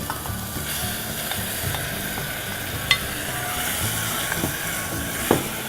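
Tomatoes, bay leaf and sugar are stirred into a pot of cooking onions for tomato basil bisque, giving a steady close sizzle with soft scraping stirs and a couple of sharp clinks against the pot.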